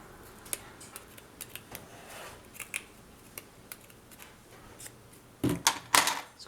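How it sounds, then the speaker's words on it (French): Scissors snipping through a piece of cardboard during a scrapbooking box build, a series of faint, crisp clicks and cuts spaced irregularly, ending with a few louder, closer snips. "Couper un petit peu de la cartonnette."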